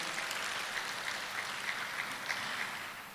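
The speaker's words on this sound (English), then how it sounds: "Please give her a round of applause" An audience claps at a climate change summit, a soft, fairly distant patter of applause that holds steady and then tapers off slightly at the end.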